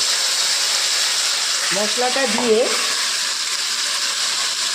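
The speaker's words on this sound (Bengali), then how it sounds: "এইবারে এর মধ্যে এই মশলাটা আমি দিয়ে দেব।" Spice mix is tipped onto fried flat beans and potatoes in a pan, giving a steady, moderate frying hiss throughout, with a brief voice speaking partway through.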